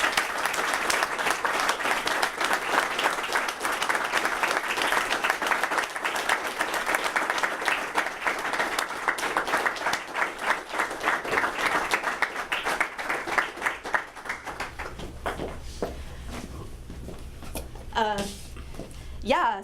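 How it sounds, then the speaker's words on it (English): Sustained applause from an audience at a university computer science end-of-semester celebration and awards event, filling the room for about fourteen seconds before fading, with some talk and murmurs toward the end. "I want to a round of applause for the faculty."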